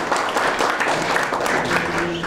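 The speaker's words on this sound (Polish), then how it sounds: "dziękuję za oklaski" Audience applause fills a hospital oncology conference hall, steady dense clapping from a crowd running throughout at moderate loudness.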